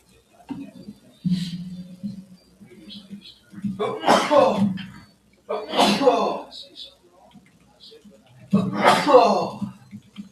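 Someone sneezes several times in short, sharp bursts during a live morning show stream, with quiet voice sounds between them.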